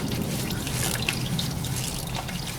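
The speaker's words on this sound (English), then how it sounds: "So oil will come out of here as well, so just make sure you have your oil pan underneath." Engine oil from a Volvo XC drips into an oil pan as a steady patter of small, close drops over a constant background hiss, with no talking.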